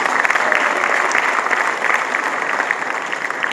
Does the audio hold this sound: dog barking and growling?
no